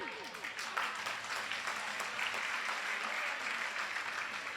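An assembled audience at a religious discourse claps for the organizing committee, a sustained wash of many hands filling the whole stretch at moderate loudness.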